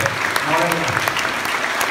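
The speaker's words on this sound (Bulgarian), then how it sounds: "Тези аплодисменти са за всички вас." An audience at a gathering in Bulgaria applauds in a thick, continuous burst of clapping, full and close throughout the short stretch.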